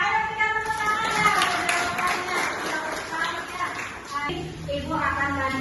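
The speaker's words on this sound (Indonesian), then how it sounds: "Ayo kita tepuk tangan ya." Pupils in an Indonesian class clap their hands together in a short burst of applause, mixed with children's voices and a teacher speaking over the clapping.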